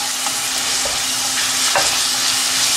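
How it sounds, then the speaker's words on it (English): Mushroom manchurian being stirred in a pan with tomato chili sauce, a steady close sizzle with scraping spoon strokes against the pan throughout, no voices. "Stir it nicely."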